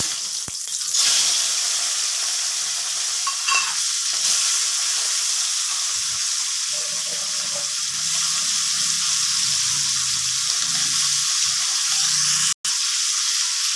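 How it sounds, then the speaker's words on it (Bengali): Prawns fry in hot oil with fenugreek seeds for a potol chingri dish, making a loud, continuous close-up sizzle with faint stirring scrapes and no speech. "আর প্রথমে দিয়ে দিচ্ছি একটু মেথি ফোড়নে। এবারে চিংড়ি মাছগুলো দিয়ে দিচ্ছি।"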